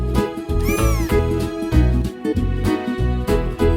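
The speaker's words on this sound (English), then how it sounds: "Cats like to chase mice." A cat meows loudly over bouncy children's music, with one or two clear rising-and-falling calls standing out near the start of a farm-animal sounds song for toddlers.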